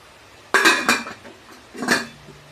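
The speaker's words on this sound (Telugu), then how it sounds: "ఇది వచ్చి వన్ మోర్ స్పేర్ బౌల్." A spare rice cooker bowl being handled, giving a few close metallic clanks and knocks in quick succession, a pair of sharp hits followed by one more after a short pause.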